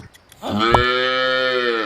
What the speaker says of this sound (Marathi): खूप छान ही गाय आहे